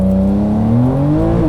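A 2020 Porsche 992 Carrera 4S launches hard in Sport Plus mode, its engine note rising loud and close in a steady climbing roar.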